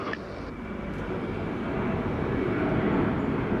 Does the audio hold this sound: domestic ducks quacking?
no